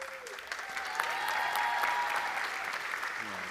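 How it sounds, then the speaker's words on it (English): Audience applause for presenters of a high school athletics program at a school showcase, a steady, dense clapping that holds at an even level from start to finish, with no voices standing out. "How about another round of applause for our presenters for the athletic program?"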